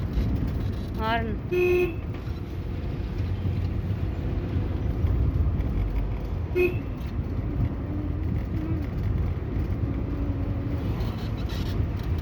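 Two short car horn toots sound close together early on, then another beep later, over continuous traffic and road noise on Ooty hairpin bends.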